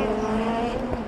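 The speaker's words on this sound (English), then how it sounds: "Catch a couple of cars going over the jumps and coming round the devil's elbow." Steady engine drone from rallycross cars racing over jumps at Lydden Hill circuit, a continuous loud roar with a sustained tonal hum, no talking.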